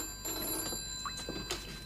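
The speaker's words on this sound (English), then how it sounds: "Costello, I told you not to ring me here." An old telephone bell rings in a 1970 police drama scene, a couple of brief, metallic bursts over a faint steady hum.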